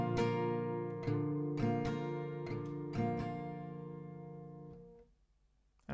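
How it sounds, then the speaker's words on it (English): An acoustic guitar strums G and GB chords in a down, down, up pattern, several clear ringing strokes that sustain and then fade out near the end, with no voices. "you will have to play a small strumming pattern, which is down, down, up."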